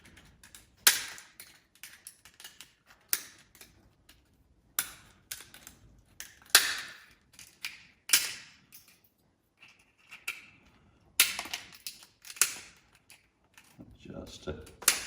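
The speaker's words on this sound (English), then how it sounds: "I'm going to use the scissors this time." Scissors trim a floral foam tube for an Easter canopy arrangement, with repeated sharp close snips and clicks scattered irregularly, and someone talking quietly between them.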